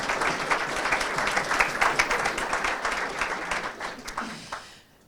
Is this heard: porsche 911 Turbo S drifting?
no